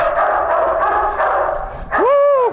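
A German shepherd dog vocalizes during rough protection-drive play, a short loud growling whine rising and falling near the end, after a stretch of busy mixed noise.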